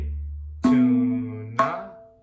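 Two tabla strokes from the second part of a kaida leading to kali, each sharp attack ringing out with a sustained, bending bass tone from the baya, close and clear with no talking.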